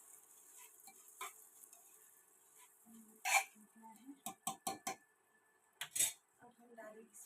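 Sweet paratha batter being mixed in a bowl: scattered spoon clinks and taps against the vessel, with a quick burst of sharp knocks near the end, fairly quiet and alone.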